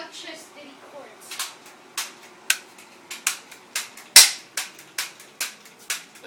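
Toy cap guns fire a series of sharp, loud cracks at an irregular pace, roughly a dozen or more pops, one especially loud, with faint background voices.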